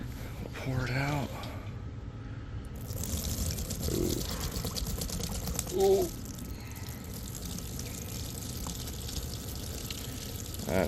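Gasoline poured out of the removed fuel tank of a 2001 Honda Elite CH80 scooter, a steady liquid splash and trickle running throughout, close by, with brief vocal exclamations over it.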